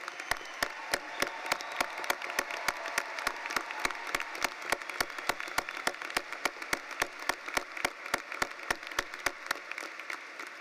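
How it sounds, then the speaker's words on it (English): Applause from a university commencement audience thanking the faculty in 2024: a soft, distant wash of clapping for about ten seconds, with a crisp, evenly spaced clap or tap repeating steadily through it. "Please join me in thanking them with your applause."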